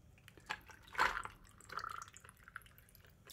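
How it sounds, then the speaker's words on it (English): Bacardi rum pours from a bottle into a cocktail mixing tin as a strong three-ounce house pour, a short trickling, dripping splash near the microphone in an otherwise quiet bar setting. "And I'm going to add about 3 ounces to this drink"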